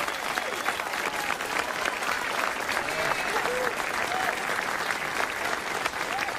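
A crowd at an evening civic ceremony welcomes the mayor with sustained, loud applause, dense clapping mixed with a few scattered voices and whoops throughout.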